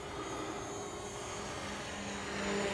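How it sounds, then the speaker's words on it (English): A DJI Mavic Pro drone flies past, giving a steady, broad buzzing whir that grows slightly louder as it nears, with no voices. "If we just bring the drone in from my left-hand side"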